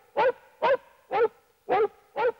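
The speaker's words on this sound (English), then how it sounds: "They can make music out of a dog's bark." Five evenly spaced, pitched dog barks played on a Fairlight CMI sampler, each short and tonal, with clean silence between them.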